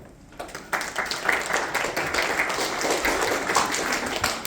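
A studio audience breaks into practice applause, steady clapping that starts abruptly and holds at a moderate level with faint voices mixed in.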